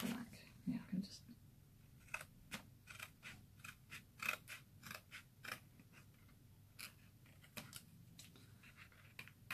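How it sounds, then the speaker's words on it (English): Scissors trimming card stock at a craft table, a series of short crisp snips spaced irregularly through the clip, close and quiet, with soft speech underneath. "I'm going to trim that just at the back"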